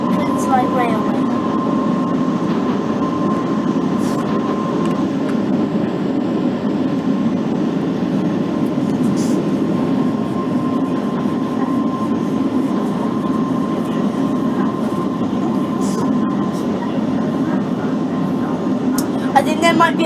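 A London Underground Central Line train runs in a train simulator, a loud, steady rumble of motors and wheels on track with a faint tonal whine, continuing unbroken throughout.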